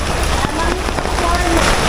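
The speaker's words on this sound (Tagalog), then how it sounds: "At ang ulan ay wala pa ring katigil-tigil. Tuloy-tuloy pa rin ang pagbuhos, lalo pang lumalakas." Heavy rain pours at an outdoor park in Clark, Pampanga, a loud, dense, continuous hiss with no break, with faint voices mixed in underneath.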